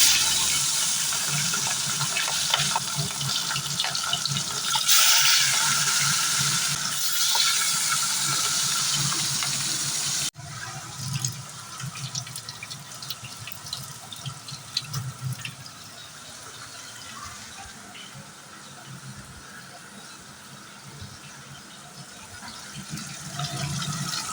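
A kitchen tap runs steadily as hands are washed during fish cooking at home, a continuous splashing stream that shifts to a lighter, uneven trickle midway.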